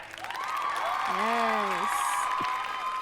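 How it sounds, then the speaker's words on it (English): Applause and cheering from a crowd swell under a raised, sing-song voice, with clapping filling the background throughout. "Applause for the dress, please."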